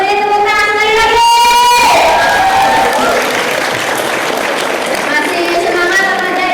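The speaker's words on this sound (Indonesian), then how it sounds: "Yuk, beri tepuk tangan sekali lagi." An audience at an Indonesian theater performance claps loudly while voices cheer and a high shout rises over the start, with the clapping then settling into a dense, continuous roar.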